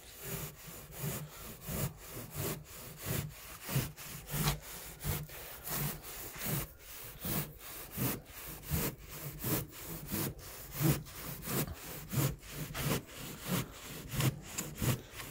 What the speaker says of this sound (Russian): И пили.